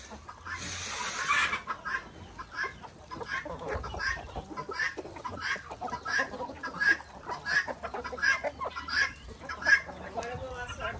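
Chickens on a rural farm cluck repeatedly throughout, with sharp clucks and squawks close by and faint bird sounds around; people talk now and then among the calls.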